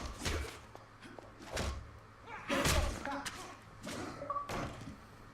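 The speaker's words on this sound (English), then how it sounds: "He tried to run and now there's fisticuffs." Fistfight punches land in L.A. Noire, a series of sharp, heavy thuds spaced irregularly about a second apart, mixed with voices talking over the scuffle.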